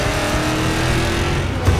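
Car engine in the Need for Speed Payback racing game hums in a loud, steady, close drone, with a faint swell near the end and no speech.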